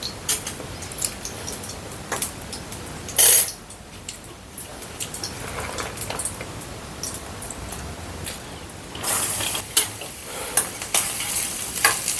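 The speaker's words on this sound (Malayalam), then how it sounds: "തേങ്ങ നല്ല ചുമന്ന് വരുന്നിടം വരെ വറക്കണം" Coconut pieces crackle and sizzle in hot ghee nearby, a steady frying hiss broken by occasional scraping stirs and louder bursts.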